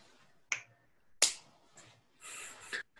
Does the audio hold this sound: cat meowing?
no